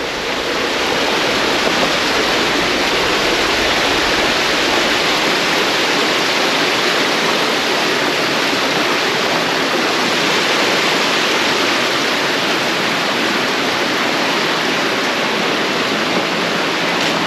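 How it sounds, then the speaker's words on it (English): Waterfall at an old coal mining site in New Zealand, a loud continuous rushing roar of falling water, steady and close from start to finish with no talk. "Waterfall seems to be slowing down a bit now. Getting a bit quieter."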